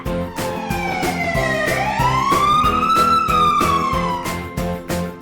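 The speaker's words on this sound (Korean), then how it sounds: "fire truck" A fire truck siren wails loud and close in one slow rise and fall, over a steady pulsing beat.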